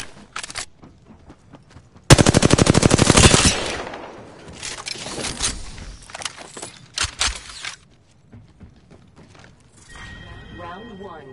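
Gunfire in the video game Apex Legends erupts as a loud, rapid automatic burst, followed by scattered shorter shots and mechanical clicks. Game voice callouts are heard in the mix.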